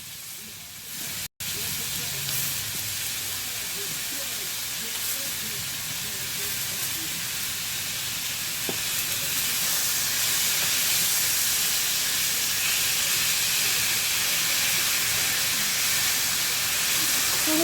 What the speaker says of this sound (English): So we're sauteing the plums with honey and lime juice.